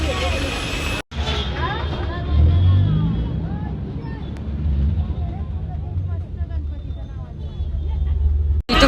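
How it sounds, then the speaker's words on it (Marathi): A bus rumbles past on a busy highway beside a station near Thane market, its low engine drone rising and swelling amid dense traffic noise, with people talking over it. "ते बघा बस चाललंय तिकडे"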